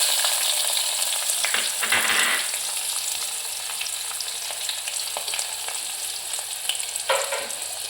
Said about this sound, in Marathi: थोडा कढीपत्ता त्याच्यामध्ये कांदा टाकून देऊ